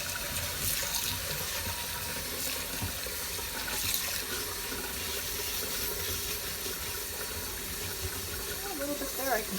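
Cast iron pans rinsed under a running kitchen tap, a steady close hiss of water splashing into a sink with scrubbing and clatter, continuous throughout with a voice speaking faintly beneath.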